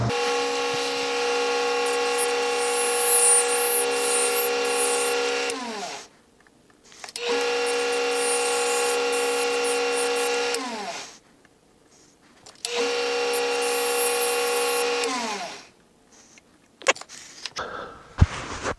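Small metal lathe turning a bespoke cap down to its final diameter, heard as three sustained tonal machine whines of about five seconds each, separated by brief quiet pauses, with a few clunks at the end.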